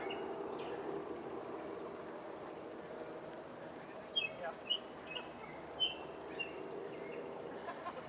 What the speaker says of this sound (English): It's like one bird doing the singing.